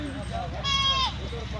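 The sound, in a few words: goat bleating at livestock market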